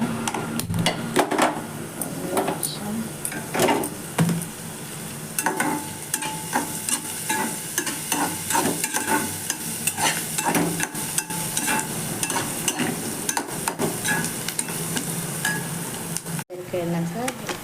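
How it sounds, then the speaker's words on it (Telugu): Ingredients for a spinach and red lentil dish frying in a pan, with continuous sizzling and frequent scraping, clattering stirs close by, a brief sharp knock near the end. "వేసుకొని బాగా ఎర్రగా అయ్యేదాకా ఫ్రై చేసుకోవాలి"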